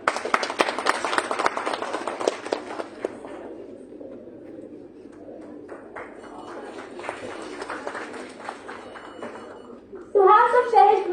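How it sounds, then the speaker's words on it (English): A conference audience at IMS Ghaziabad breaks into a round of applause, dense clapping that thins to scattered claps, then a voice speaks at the end. "A big round of applause for Mr."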